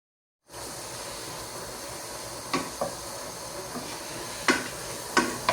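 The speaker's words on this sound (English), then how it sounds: "Meanwhile, the pasta is cooking there." Pasta boiling in a pot on a home stove, a steady bubbling hiss with occasional sharp clinks of metal, no talking.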